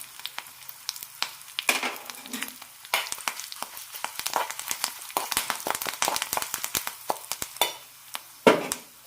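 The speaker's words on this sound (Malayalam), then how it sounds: "ഇനി ഇതിലേക്ക് കറിവേപ്പില ഇടാം അര ടീസ്പൂൺ കായം കൂടി ഇടാം" Curry leaves and asafoetida crackle and spit in hot oil for the tempering of an ash gourd and curd koottu, with dense, irregular pops and sizzles throughout, a few sharper bursts standing out, and no talk.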